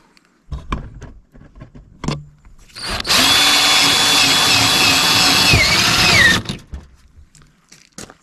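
A power drill bores a hole through a Ford Ranger door to mount Silverado mirrors, whining loud and steady for about three seconds, framed by short clicks and handling noises before and after.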